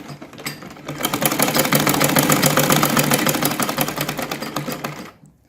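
A sewing machine stitching a curved neckline with black thread, starting with a few taps, then running in a loud, steady, rapid stitching rhythm for several seconds before slowing and stopping, with no talk.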